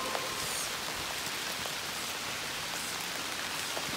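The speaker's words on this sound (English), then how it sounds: "The rain just got heavier." Heavy rain pours down steadily outdoors on Clinton Road in New Jersey, a dense, even hiss with scattered drop patters and no voices.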